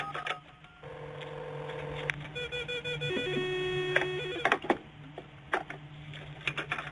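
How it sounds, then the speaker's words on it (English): A telephone dials out to connect with a school's computer, a run of distinct dialing tones held one after another over a low steady hum, followed by scattered clicks and taps. "Dialing into the school's computer."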